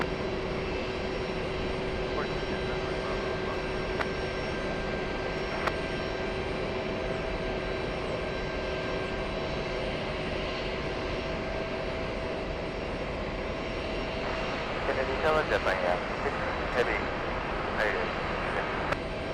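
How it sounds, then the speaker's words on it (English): A JetBlue jet airliner arriving from London lands with a continuous broad engine roar and steady tonal whine, holding at an even level throughout, with some brief crackling toward the end. "We have a blue JetBlue landing right now, flying in from London."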